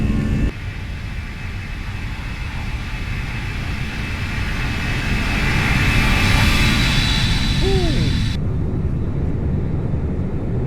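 A Toliss Airbus A319 with IAE engines roars through its takeoff roll and climb in a flight simulator, a loud steady rumble that swells midway and then cuts off abruptly, with faint brief chime tones near the end.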